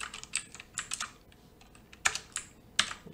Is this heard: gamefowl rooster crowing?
no